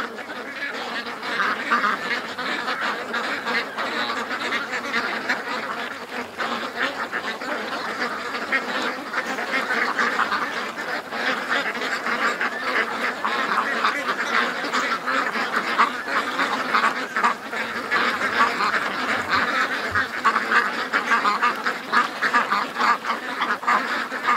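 A flock of domestic ducks quacks in a yard near their pen, a continuous dense chorus of overlapping nasal calls, moderately loud and steady, with no talking over it.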